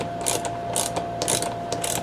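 A 1/4 inch socket ratchet wrench loosening a bolt, with repeated bursts of close, crisp pawl clicking in quick strokes and no talk.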